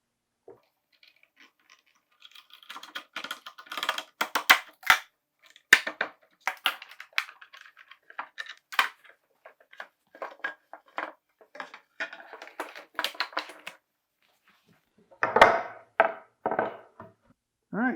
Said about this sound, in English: let's get all the clamps off and take a look at our panel